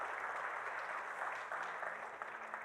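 A church congregation applauds, a soft and fairly distant patter of clapping that continues evenly without any talk over it.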